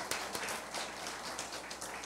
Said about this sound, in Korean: 우리 여자운동 회원들 모두에게 감사의 박수를 모아서 드립니다.